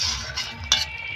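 A spoon stirs Bengali koi fish curry with coriander leaves in a pan, giving soft scraping and a few sharp clinks against the metal over a quiet simmer.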